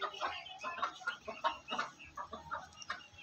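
Aseel rooster and hens cluck steadily in short, rhythmic bursts close at hand, a run of repeated calls filling the moment.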